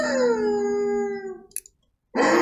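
A single drawn-out wolf howl emote from Fortnite, a clear tonal howl that slowly falls in pitch and fades, followed by a short click and a brief burst of noise at the end.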